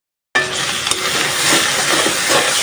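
Sliced onion with cardamom and cinnamon sizzles in hot oil in a cooking pan, a dense, loud, continuous frying hiss that starts abruptly after a brief silence, with a few stirring scrapes.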